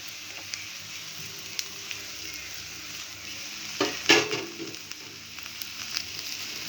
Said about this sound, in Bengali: আলুগুলো দিয়ে নাড়াচাড়া করে এর মধ্যে দিয়ে দিব হলুদ গুঁড়ো, জিরে গুঁড়ো, ধনে গুঁড়ো।